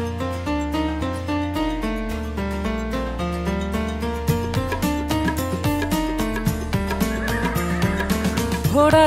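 Horse neigh and whinny in a Hindi children's nursery rhyme about a running horse, set into a bright, busy musical backing that plays steadily throughout.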